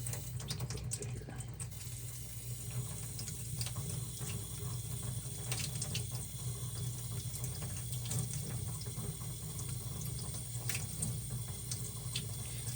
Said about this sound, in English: Let's do some running water.